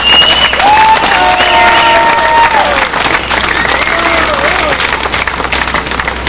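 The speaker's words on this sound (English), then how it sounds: "I believe that's probably the first time I've ever been applauded for saying I'm going to give a prayer" Audience applause welcoming a speaker at the Canton, Illinois bicentennial celebration, sustained loud clapping with some cheering and whistles, gradually tapering.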